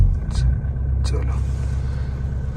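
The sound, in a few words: Mahindra Thar engine started and running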